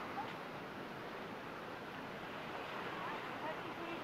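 Gentle, calm sea waves at Bikini Beach on Felidhoo Island in the Maldives around sunset, a steady soft wash of surf mixed with light wind rumble, continuous and fairly even throughout.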